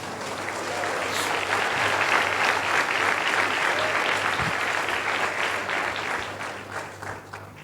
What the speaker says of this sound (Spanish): ¿Cuánto aplauden al Señor?